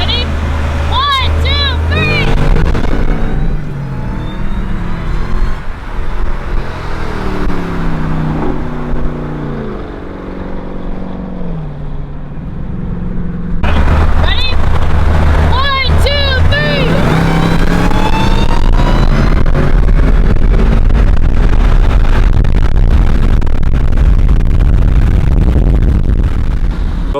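A Jeep Trackhawk and a 2018 Mustang GT race, engines roaring and revving loudly near the listener, with a sharp rise in engine noise partway through and people talking over it.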